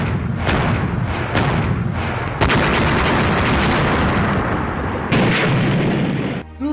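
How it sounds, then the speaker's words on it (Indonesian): Cannon fire in a battle reenactment of the Gowa war: heavy booms go off in rapid succession over dense, rumbling battle noise, loud and close, with no voices. "Siapkan meriam."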